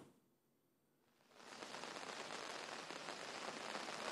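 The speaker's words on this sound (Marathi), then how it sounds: "मुंबईमध्ये आज पहाटेपासूनच मुसळधार पाऊस पडतोय" Heavy monsoon rain pours down in Mumbai, a dense, steady roar of rain on surfaces that swells in after a brief quieter start and continues loud and unbroken with no voices.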